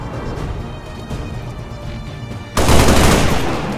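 A soldier's burst of gunfire in XCOM 2 erupts suddenly and loudly after a stretch of low background rumble, then rings on briefly.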